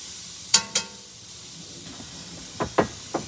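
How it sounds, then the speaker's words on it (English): Diced carrots tipped into a hot pan with diced onion, two sharp sizzling bursts near the start and three more shorter hisses toward the end, with quiet gaps in between. "These are 2 carrots, pretty good sized carrots, diced, going in."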